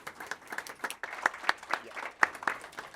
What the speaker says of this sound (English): Let's give another round of applause to our emergency management team.